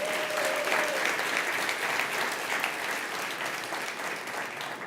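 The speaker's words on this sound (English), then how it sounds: "So give them a round of applause, please." A conference audience claps at a Stop Food Waste Day event in the Innovation Barn, a steady, even wash of applause that holds for several seconds.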